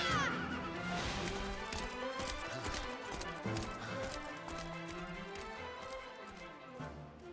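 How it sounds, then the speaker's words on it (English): Horse hooves clip-clop in Dragon Quest 11 as a princess kicks her mount into motion, a steady trotting patter layered under game music and ambient effects, fairly close and moderately loud. "She kicked the horse."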